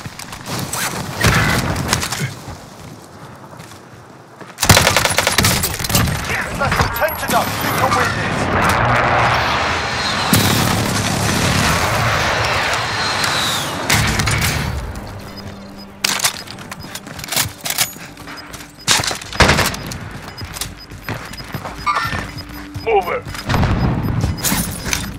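Video game gunfire in a firefight: dense bursts of sharp cracks and heavy booms, loud and close, crowding the first fifteen seconds before thinning into scattered shots, with voices mixed in.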